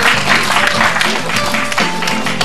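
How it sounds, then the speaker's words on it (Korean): Congratulatory applause at a year-end concert and dinner show during an award presentation, a loud close burst of many hands clapping with a bright, dense texture. "축하 박수 부탁드리겠습니다"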